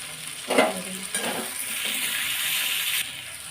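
Mixed vegetables sizzle steadily in a pan as chilli powder is added, with a loud, continuous frying hiss and a few stirring scrapes near the start.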